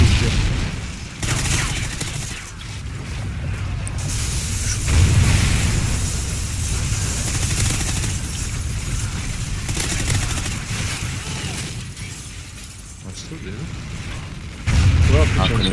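A rapid, sustained minigun roar in Call of Duty: Ghosts, loud continuous firing with booms layered over it, running almost unbroken throughout while people talk over the din.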